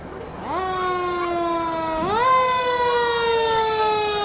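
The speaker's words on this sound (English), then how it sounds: "Antique fire engine." An antique fire engine in a Christmas parade sounds a mechanical siren that rises into a loud sustained wail, then climbs a second time and holds steady, up close with crowd noise underneath.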